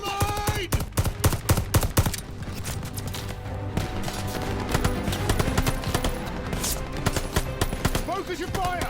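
Rapid machine gun fire and scattered gunshot bursts in a Call of Duty Vanguard campaign battle, dense and continuous against a backdrop of game music, with shouted voices in the mix.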